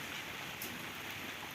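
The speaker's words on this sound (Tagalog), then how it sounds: "Malakas na yung ulan. Kanina medyo may nahina pa. Pero ngayon lumalakas na ngayong hapon." Heavy afternoon rain comes down in Silang, Cavite, a faint, even hiss of drops on surfaces with a brief brighter splash near the middle and no talking.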